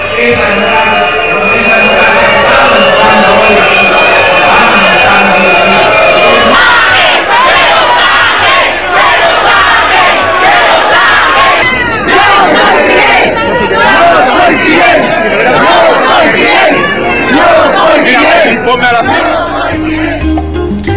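A large crowd jeers at Evo Morales with whistling and loud shouting, a dense, loud roar of voices. Sharp whistles cut through at first, then the din turns into rhythmic chanting.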